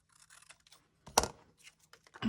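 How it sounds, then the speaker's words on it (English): Paper being trimmed with scissors while decorating a handmade journal: a quiet snip and rustle, with one sharper cut near the middle and a final crisp snip at the end. "I'm just going to cut it off."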